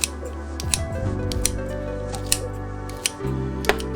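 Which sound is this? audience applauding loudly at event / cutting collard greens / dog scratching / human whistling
cutting collard greens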